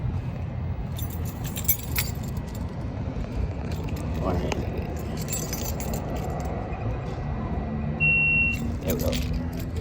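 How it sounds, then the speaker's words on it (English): Car keys jangle in short bursts near a Chevy Malibu, mixed with light metallic clinks over a low background hum, and a person speaks briefly. "Where's my keys at?"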